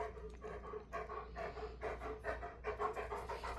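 A pet dog pants quickly and rhythmically after coming in from the heat outside, close by and fairly soft, with a faint whimper between breaths.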